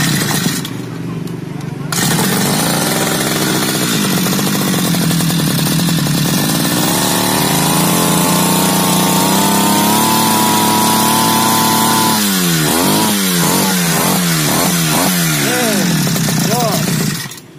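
A grass cutter engine runs loudly and close, its drone rising and wavering in pitch before breaking into a series of quick, sharp revving bursts.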